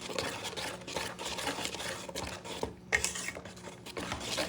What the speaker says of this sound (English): I have to mix it well.